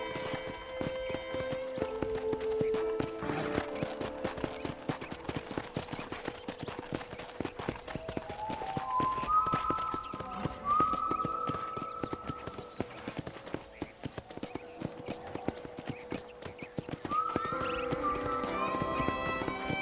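Steady clip-clop of horse hooves on a ranch in the video game Red Dead Redemption plods on throughout, with occasional tonal chimes and faint music in the background.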